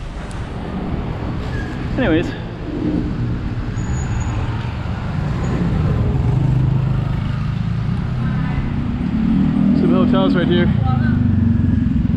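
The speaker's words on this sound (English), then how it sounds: "it sounds loud, like this traffic's going by me right now" Busy Bangkok road at night, with steady loud traffic and motorcycles roaring past close by throughout, while someone talks briefly over the din.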